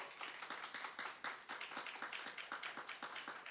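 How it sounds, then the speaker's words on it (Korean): Applause from a church congregation welcoming two deacons, the youth department head and deputy head, brought to the front: a steady, dense clapping that stays at an even level throughout and is heard without voices. "큰 박수로 환영 부탁드리겠습니다."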